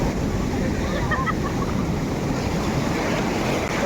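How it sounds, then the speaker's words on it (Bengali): Loud, continuous roar of sea waves crashing and surging on Puri beach, a dense wind-blown wash of surf throughout with a faint voice under it. "এই ঢেউ আসছে, খুব জোরে একটা ঢেউ আসছে।"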